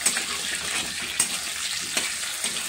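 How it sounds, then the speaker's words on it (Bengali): Turmeric-marinated chicken pieces fry in hot oil in a kadai, a steady bright sizzle and hiss with a few soft spatters, heard alone without talk. "হাতে তেলটা দিলাম, গুঁড়ো হলুদ মাখিয়ে রেখেছি দিয়ে দিলাম, ভালো করে ভেজে নেব"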